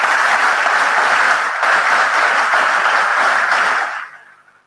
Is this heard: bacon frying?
no